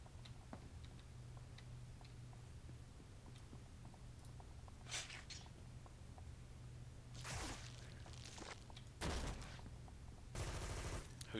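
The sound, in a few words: gunfire from the video game City of Heroes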